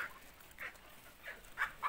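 Hens cluck and squawk in short bursts at a moderate distance while a rooster chases them, with a few sharper calls near the end as birds scurry about.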